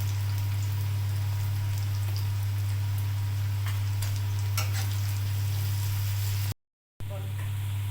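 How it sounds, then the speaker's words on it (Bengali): Onions with salt frying in oil in a wok, a steady close sizzle running beneath a loud low electrical hum, with a brief dropout to silence near the end. "পেঁয়াজ ভালো করে ভেজে নেব।"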